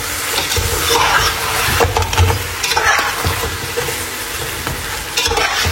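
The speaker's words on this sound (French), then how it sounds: "Je vais mélanger le tout." Lamb curry being stirred in a hot pan, a steady scraping and sizzling that fills the clip at close range with no one speaking.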